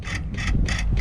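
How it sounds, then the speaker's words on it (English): A spanner tightens nuts back down in short repeated strokes, giving a close, crisp ratcheting rattle in about three even bursts within a second, with no talking. "Now we tighten the nuts back down."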